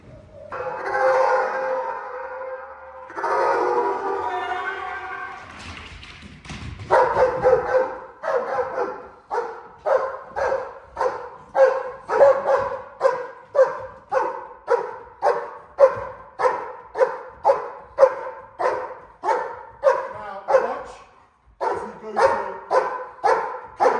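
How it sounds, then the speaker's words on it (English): Malinois or German Shepherd dog barking during a hold-and-bark drill, a few longer growling barks at first, then a loud, close, steady run of rapid, evenly spaced barks. "So we're going to do a hold and bark, controlling the situation"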